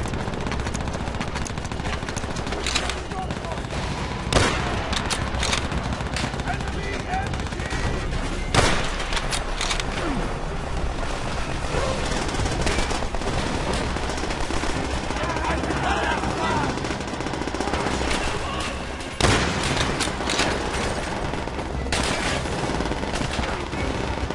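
Sustained gunfire from the World War II shooter Call of Duty: World at War, with rifle and machine-gun bursts rattling continuously, a few heavier shots standing out, and voices shouting in the battle.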